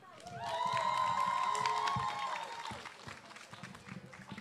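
A crowd at a summer camp final show claps and cheers, with a loud burst swelling then fading into scattered clapping, while a voice rings out over it.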